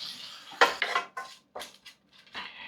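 Sliced peppers tossed into a cooking pan for chicken karahi, a few sharp clattering hits and scrapes of metal and utensil in quick succession, close and dry with no talking.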